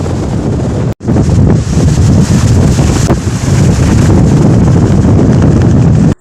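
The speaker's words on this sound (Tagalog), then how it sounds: "literal na mas mahangin at malakas ang hangin ng Mount Arayat" Strong wind roars across the exposed peak of Mount Arayat, loud continuous buffeting against the microphone with a brief dropout near the start, no talking.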